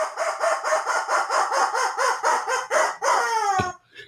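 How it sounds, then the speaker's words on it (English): A squeezed rubber chicken gives a rapid run of evenly spaced, nasal squawks, loud and close, then ends on one longer, wavering squeal before cutting off. "And the rubber chicken says,"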